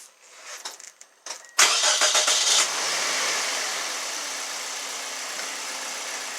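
A Toyota Corolla with a P0016 crank-camshaft correlation fault cranks briefly, catches with a loud roar, then settles into a steady, even idle, close by with no talking.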